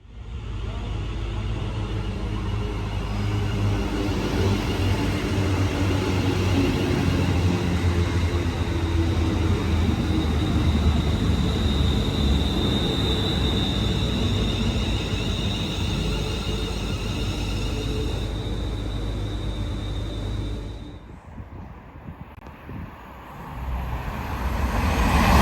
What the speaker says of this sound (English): that was one of the high-speed